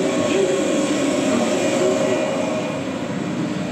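Steady low rumble of a Japanese local train idling or moving slowly at a platform in Osaka, a continuous mechanical drone with faint hiss, loud and close throughout.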